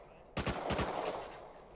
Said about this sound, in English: let me pull out my bolt real quick and headshot it.